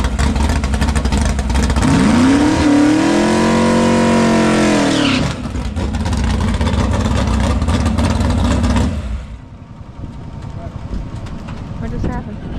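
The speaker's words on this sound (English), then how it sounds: "Well, I started my burnout." Drag race car engine revving hard during a burnout, a loud sustained roar with pitch sweeping up and settling before cutting abruptly, then a lower rumble that fades as the engine is shut off in the lane, with talk over it.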